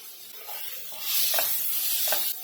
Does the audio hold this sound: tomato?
yes